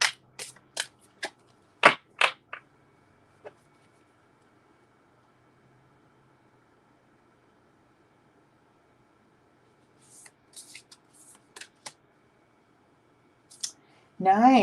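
Tarot cards being shuffled by hand in a quiet room, a quick run of soft riffling flicks at the start and another brief flurry later, with long near-silent gaps between.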